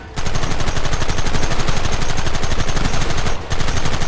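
Loud, sustained automatic gunfire from the Western video game Red Dead Redemption, a dense, rapid stream of shots that barely lets up, with one brief break before the firing resumes.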